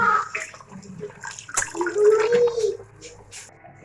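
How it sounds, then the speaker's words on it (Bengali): Rice for chicken biryani being washed in water by hand, close sloshing and swirling with splashes and pouring, moderately loud, without speech. "চালটা আমরা পরিষ্কার করে ধুয়ে নিয়েছি।"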